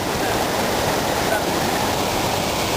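Steady rushing of flowing water, dense and continuous like a small waterfall or stream in Transylvania, close by with no pauses.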